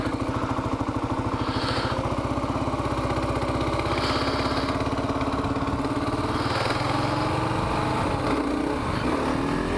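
Kawasaki KLR650 dual-sport motorcycle engine revving and lugging steadily during wheelie practice, a loud continuous thump with repeated throttle surges throughout, close to the recorder.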